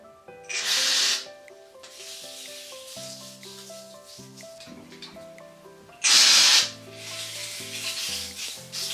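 Fizzing hydrating shower gel rubbed and lathered on skin gives a close, soft crackling fizz with two louder bursts of hiss, all under steady background music.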